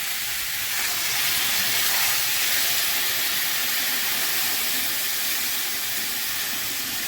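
Water poured into a frying mixed vegetable curry sets off a loud, steady sizzle and hiss of steam, close and unbroken throughout.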